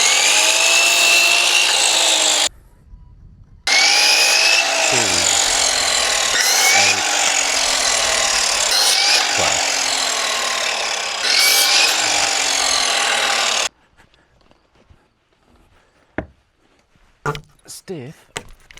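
Power saw cutting wood decking boards to length on a jig, loud whining cuts in long bursts with a brief pause, then near silence with scattered clicks and handling noises.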